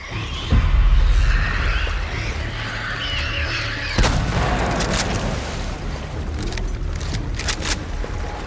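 A revolver fires in The Last of Us Part 2, a loud sharp shot early on, then another crack around the middle and a few lighter impacts later, over ambient game sound.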